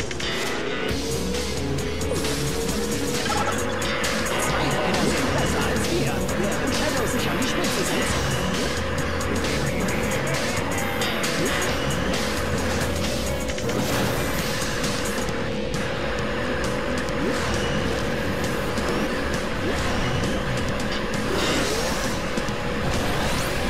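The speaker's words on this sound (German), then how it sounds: "die Motor von Robotniks Fahrzeug, das ist krass" Robotnik's vehicle engine in the racing game Sonic Sega All-Stars, a steady droning hum that holds for the whole stretch under game music and crash effects, with a voice talking over it at times.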